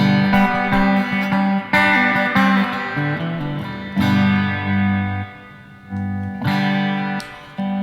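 Electric guitar on its bridge pickup, strummed chords with a bright, slightly driven tone, ringing and sustaining between strums, played alone at a relaxed pace.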